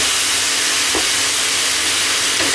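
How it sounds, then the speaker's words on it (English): Crispy pork belly, silk squash and onions stir-fry over high heat in a pan, producing a loud, close, continuous hiss with a couple of brief scrapes. "Just stir fry this on high heat."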